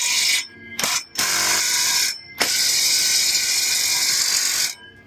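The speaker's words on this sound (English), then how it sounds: "Alright, we got the impact gun on there." Cordless impact gun hammering on a bolt during an independent rear suspension swap on an OBS Chevy truck, loud rattling bursts in three runs separated by short pauses, the last burst the longest.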